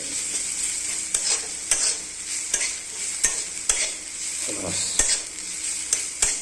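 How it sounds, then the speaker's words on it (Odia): Onions frying in a pan until nearly reddish, under a steady sizzle, with sharp regular spatula knocks against the pan every half second or so as they are stirred, close up. "ପିଆଜ ଆମର ପାଖାପାଖି ନାଲି ହେଇ ଆସିଲାଣି"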